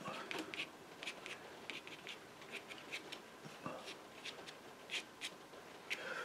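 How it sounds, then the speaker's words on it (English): A plastic card drags and lifts wet paint across a painting surface, producing faint, close, repeated scratchy scrapes in short irregular strokes. "I'm just using the card to demonstrate the lifting out"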